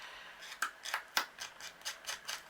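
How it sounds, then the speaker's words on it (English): Metal snips scraped along the edges of paper card to rough them up, giving a series of short, crisp rasping strokes at an irregular rhythm, close and fairly quiet with no talk. "I'm just running my snips over."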